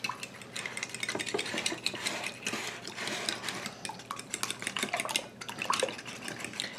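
Eggs are beaten in a bowl with a utensil, giving quiet, rapid, continuous clinking and whisking, close and alone.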